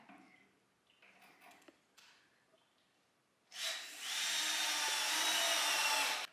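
A power drill drives the last screw into new furniture, a steady loud whir lasting a few seconds after some quieter handling noises.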